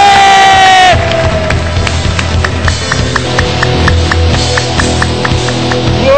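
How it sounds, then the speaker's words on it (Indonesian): A seminar audience at a marketing event breaks into loud, sustained cheering and applause that fills the whole room without pause, with a musical backing underneath. "Kasih tepuk tangan dulu Bapak Ibu, kasih suara"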